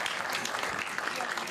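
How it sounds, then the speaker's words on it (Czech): A short burst of dense audience clapping at an event opening before a band performance, brief and steady, with some voices mixed in. "potlesk"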